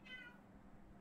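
A cat meows once, close and clear, a short rising cry that fades into low background hum during an Among Us game session.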